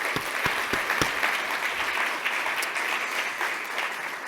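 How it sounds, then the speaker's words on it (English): Audience at a Sustainable Brands conference applauding the event sponsors: dense, even clapping from a sizeable crowd, steady throughout and slightly tapering toward the end. "So let's give everyone a round of applause"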